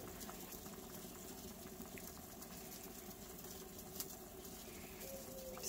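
Onion marinade at a steady boil in a pot on the stove, a faint continuous bubbling and hiss with no talking.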